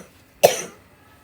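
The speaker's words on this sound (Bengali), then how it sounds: "কথা বলে কাশি হচ্ছে।" A single sharp cough from someone with a persistent cold, one short burst close up, then quiet.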